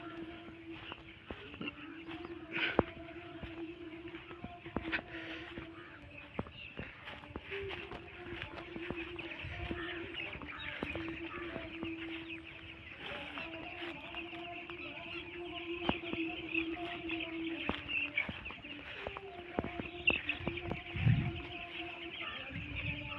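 Country chickens cluck on a farm, repeated short clucks and calls near and far over a long stretch, with a person talking intermittently among them.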